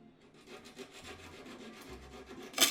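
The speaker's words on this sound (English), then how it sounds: "I completed the job using sandpaper since I had better leverage and I had to smooth down the edges" Sandpaper rubbing along the edges of wooden dollhouse pieces for a 19th-century-style Victorian dollhouse, a steady scratchy back-and-forth abrasion that runs continuously at close range, ending with a brief louder scrape.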